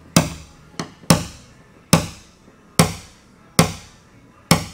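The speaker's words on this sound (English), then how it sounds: "I'm going to tap down all those highs that was on the outer edges of that." Sharp metallic taps from a paintless dent repair hammer and tapper on the body panel of a Mini JCW, seven close, loud strikes at irregular intervals, each ringing briefly before fading.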